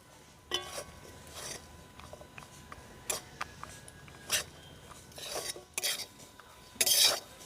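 A spatula scraping and stirring semolina halwa in a metal pan, with irregular rasping strokes and clinks, some louder scrapes standing out, close up with no talking.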